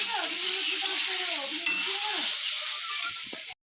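Small chuno fish frying in a pan with spices, a loud continuous close sizzle with stirring, faint background tones and occasional clinks, cutting off abruptly at the end.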